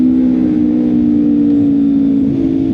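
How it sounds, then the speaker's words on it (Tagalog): A Kawasaki Ninja 400 with a 399cc parallel twin engine, 180-degree firing order and an aftermarket exhaust, holding a loud, steady drone at high revs close by, with a slight dip near the end. "this is a 399cc parallel twin na may 180 firing order, kaya ganun yung naririnig nyo"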